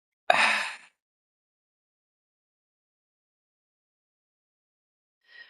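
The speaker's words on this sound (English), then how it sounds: "Hold it there and exhale for 7." A single breathy exhale during a guided breathing exercise, a soft gasp-like rush of air lasting about half a second, then near silence with a faint breath returning at the very end.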